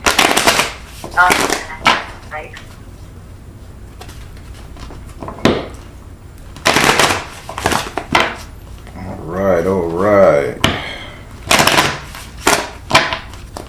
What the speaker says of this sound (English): I've taken a deliberate shuffle in the card.